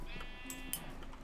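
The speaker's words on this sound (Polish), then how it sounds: "Weszła owca, weszła owca." A sheep in the video game Minecraft bleats faintly, set against a steady background of game sound and music.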